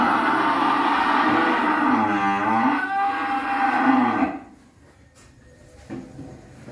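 Cattle on a Vietnamese beef farm give a long, loud, close moo that swells and wavers for several seconds, then trails off into quieter barn ambience with faint shuffling.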